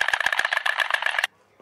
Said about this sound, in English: Stork.